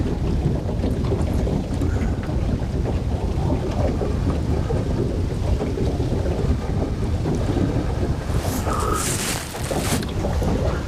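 Strong wind buffeting a fishing boat and the microphone, a loud continuous roaring rumble that barely lets up throughout.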